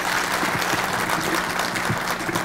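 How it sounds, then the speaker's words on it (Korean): Loud, dense audience applause at a talk concert, continuous clapping from a large crowd filling the room at an even level throughout. "자, 이제 먼저 박수 치시려면 크게 한번 치시죠."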